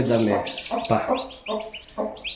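Several chickens cluck and chirp in short bursts nearby, fairly soft, with brief pauses between calls.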